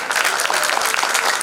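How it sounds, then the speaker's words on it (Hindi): Audience applause for a theatre troupe after a stage play, a dense, continuous patter of many hands clapping, fairly close and steady over a brief stretch with no talk. "तालियां थोड़ी सी कमजोर हैं।"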